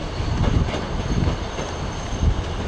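British Rail Class 158 or 159 diesel multiple unit in old South West Trains livery at Clapham Junction, giving a steady close rumble with irregular wheel thumps and a faint high whine, no voices.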